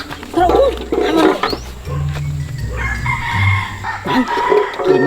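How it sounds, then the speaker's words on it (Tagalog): A rooster crows loudly and close by in a rural yard in Siquijor, repeated calls with clucking fowl around it, while people talk and move nearby. "Nara manok."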